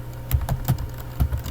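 Fast typing on a computer keyboard while entering a web address into a Linux terminal, a steady run of close key clacks over a constant low hum, with no voice.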